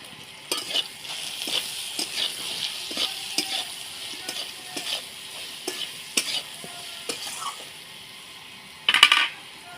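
Vegetables sautéing in a pan with salt and turmeric: a soft steady sizzle under repeated scraping spatula strokes, then a louder metallic clatter near the end.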